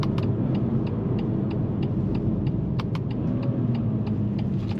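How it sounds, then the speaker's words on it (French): Muffled, steady engine drone from a BMW M2 Competition with its 410 hp six-cylinder and stock exhaust, heard from inside as a constant low rumble with faint periodic clicks and no talk. "c'est quand même assez étouffé au niveau du bruit du 6 cylindres"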